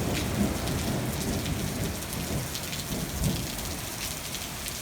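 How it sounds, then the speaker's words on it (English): Pouring rain and thunder heard from the front porch of a farmhouse northeast of Chico, California; steady heavy rain hiss throughout with low rumbles of thunder in the background, no voices. "You can hear the thunder in the background."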